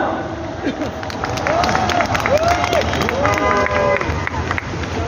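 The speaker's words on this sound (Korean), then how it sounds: "큰 박수 부탁드립니다." A large outdoor political rally crowd in Yeouido, Seoul, on Independence Movement Day applauds and cheers, a continuous roar of clapping and voices with some whistling and background babble throughout.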